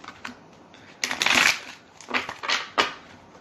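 Tarot cards are shuffled close up in several quick riffling bursts separated by brief pauses.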